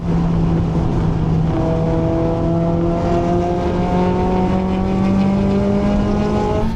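Sharpened Mazda MX-5 ND race car engine during a race, a loud close continuous drone with rising pitch sweeps as it accelerates through gears, no voices.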